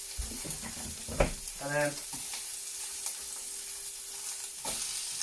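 Sliced leek fries in a pan with a low, steady sizzle. A few close knocks and scrapes of stirring sound over it, and someone speaks briefly near the start.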